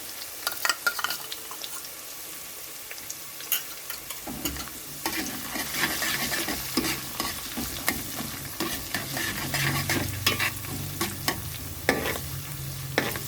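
Garlic and ginger frying in ghee in a pan for a Lahori chicken dish, a steady close sizzle broken by repeated scraping stirs, with no talk over it.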